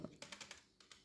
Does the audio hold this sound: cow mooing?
no